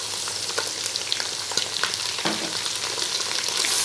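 Mutton pieces frying in a pan for a namkeen gosht dish, a steady close hiss of sizzling oil with scattered crackles and occasional stirring scrapes throughout.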